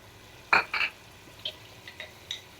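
Meat being stir-fried with spices in a pot, heard as a few sharp scraping and clinking strokes of a spoon against metal, then lighter scattered knocks over a quiet background.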